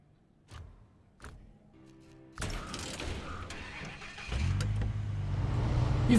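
A Chevy truck in SnowRunner: a few mechanical clunks, then the engine turns over and settles into a low, steady rumble that grows louder as the truck pulls out.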